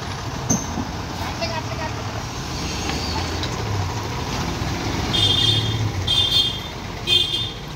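A 16-wheel truck works along a ghat road with a continuous low engine rumble and road noise, rising slightly near the end, while a voice talks over it.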